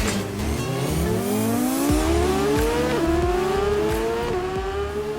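A motorbike engine in the racing game TT Isle of Man Ride on the Edge 2 screams loudly and continuously through a one-lap TT race, its pitch climbing through each gear with clear shifts between.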